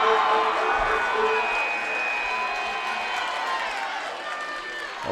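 A loud, sustained roar from a basketball crowd cheering for the Linville Hill Warriors, dense and steady throughout with shrill whoops riding on top, easing off slightly toward the end.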